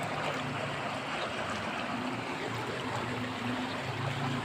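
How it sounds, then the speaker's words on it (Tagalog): Steady rushing of flowing water with a broad, continuous wash, like a river current and small waves, unbroken throughout with no voices. "Maingay ang alon."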